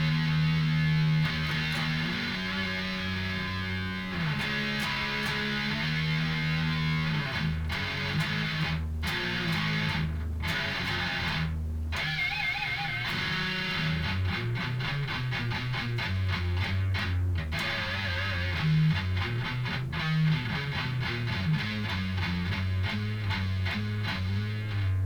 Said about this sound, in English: that's my main distortion. You can hear it.